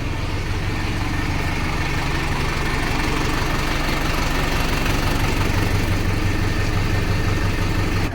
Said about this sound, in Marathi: आपण ट्रॅक्टर बाहेर काढलाय, टँकर जोडलाय ट्रॅक्टरला